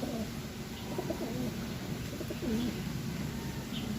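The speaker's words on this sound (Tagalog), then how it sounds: "meron na mga ibon na dumadating, mga dumadaan pala yun" Pigeons coo softly in low repeated calls at a racing pigeon loft during road training, steady outdoor ambient noise running underneath.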